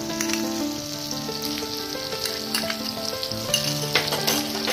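Spice paste frying with potatoes and a rohu fish head in a pan gives a steady, close sizzle with stirring and scraping layered on top, continuous throughout.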